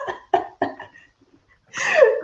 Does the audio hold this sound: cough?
yes